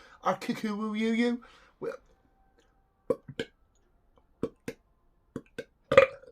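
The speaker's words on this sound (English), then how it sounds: "Have a bit of burp." A drawn-out voiced burp opens, followed by a few short sharp clicks and small vocal noises in near silence.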